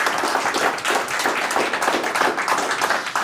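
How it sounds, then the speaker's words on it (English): A crowd at a gaming event claps for the organizer, a dense, even burst of applause filling the room for a few seconds. "Can we give Darren a round of applause for organizing?"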